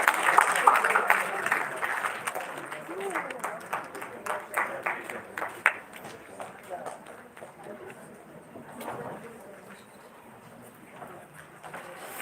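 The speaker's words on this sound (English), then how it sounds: "Audience, a huge round of applause, please." An audience at a ceremony claps, with a burst of fairly loud applause for the first few seconds that thins out and fades, while a voice speaks over it.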